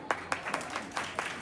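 Audience applause at a Bihar Police constable recruitment 2025 final selection felicitation ceremony in Gopalganj, heard as a steady wash of clapping from a crowd, moderately loud with a rhythmic pulse of sharper bursts throughout.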